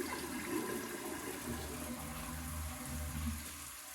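Glacier Bay toilet flushing golf balls, a continuous rushing drain of water with a low gurgling siphon underneath. It stays steady and moderately loud throughout, with no voices.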